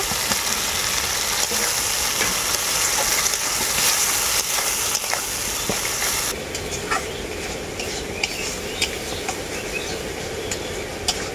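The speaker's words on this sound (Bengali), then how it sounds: "একসাথে খুব ভালো করে মশলাটাকে আমি কষিয়ে নেব" Masala paste with tomato and Kashmiri chili powder frying in a pan for a jackfruit and fish roe curry, giving a steady, dense sizzle that runs throughout and eases slightly toward the end.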